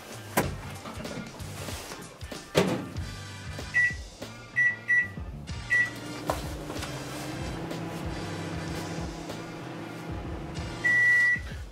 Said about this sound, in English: we're going to heat that puppy in the microwave for 5 minutes